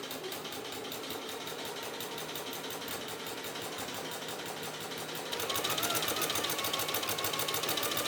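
A sewing machine runs continuously, stitching a folded denim hem on a 70s-style jumpsuit, a fast even motor whir with a rapid needle rhythm that grows slightly louder and brighter partway through.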